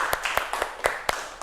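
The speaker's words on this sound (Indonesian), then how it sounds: "Semua tepuk tangan." A few people clap in a classroom during a microteaching lesson, giving sparse, separate handclaps in a loose rhythm, about six distinct claps close by over a quiet room.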